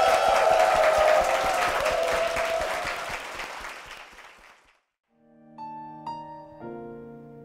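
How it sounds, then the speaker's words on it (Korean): A church congregation gives hearty applause, a full wash of clapping that fades out by midway, followed by a soft sustained keyboard chord entering alone. "두 분께 힘찬 박수 부탁드리겠습니다"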